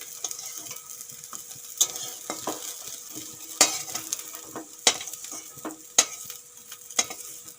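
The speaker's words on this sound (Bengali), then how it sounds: "এই দেখুন খুব সুন্দর করে সয়াবিনগুলো আমি ভেজে নিয়েছি" Soybean chunks fry in hot oil in a pan with a steady, soft sizzle, broken by sharp, frequent scrapes and knocks of a spatula stirring them, close up and without speech.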